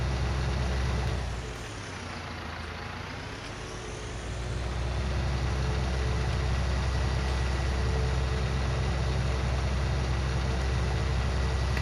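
A tractor engine in Farming Simulator 19 rumbles steadily and loud, dipping and rising in pitch for a few seconds before settling into a sustained drone, with no speech.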